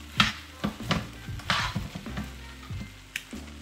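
Shrimp fried rice sizzles in a hot pan under repeated stirring, with sharp scraping bursts of the utensil every half second or so over a steady frying hiss.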